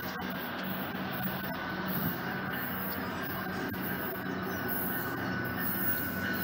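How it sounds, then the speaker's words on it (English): A GO Transit train passes eastbound through Bronte GO station with a steady, loud rumble and roar of wheels on rails, broken by faint clicks and a high squeal throughout. "Here's the 12 and the 120 eastbound low train."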